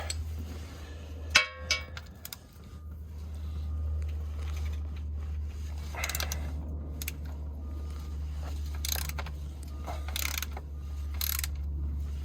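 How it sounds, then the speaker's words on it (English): A ratchet wrench working loose the drain plug on a vehicle differential during an oil change, giving sharp metallic clicks and clinks, then bursts of rapid ratcheting, all over a constant low hum. "We'll go ahead and drop our drain plug. Reach my wrench here."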